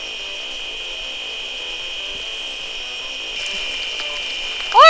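A chainsaw in the surgery video game Surgeon Simulator 2013, a steady high-pitched mechanical whine that runs continuously, grows slightly rougher near the end and finishes with a sudden louder burst, with no voices.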